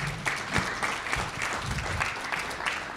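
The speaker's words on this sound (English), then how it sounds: "Give them another round of applause." An audience at a live Nevada political debate event applauds the candidates, a steady wash of many clapping hands at moderate distance, continuous and fairly even for the whole stretch.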